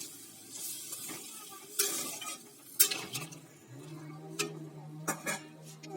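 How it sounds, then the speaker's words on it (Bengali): Spiced mixed vegetables stirred in a pan after water is added, with irregular scraping and clinking strokes, a soft simmer underneath and a faint steady hum. "এবার একটু নেড়ে চেড়ে"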